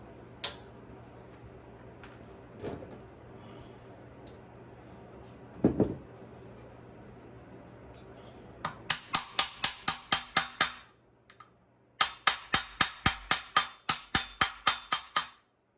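A wheel seal being hammered into a Yugo/Fiat wheel bearing hub, first a few isolated knocks, then two fast bursts of sharp, evenly spaced metallic hammer blows, loud and close, with no talk.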